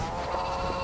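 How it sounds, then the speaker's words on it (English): A sheep bleats in an unusually deep voice near a gravesite along a road trip route, one sustained low call over a steady outdoor background. "It's the deepest sheep's voice I've ever heard."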